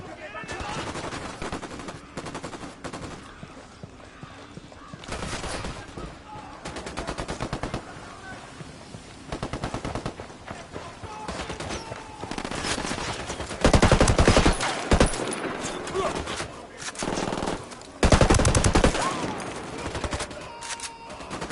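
Rapid bursts of automatic gunfire from the Ghost Recon Wildlands video game, dense crackling volleys that come in waves, louder near the end, with game voices talking in between.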